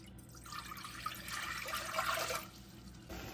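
Water pours steadily into a cooking pot, measured out for basmati rice, a continuous splashing stream that swells briefly then cuts off near the end, with no talking.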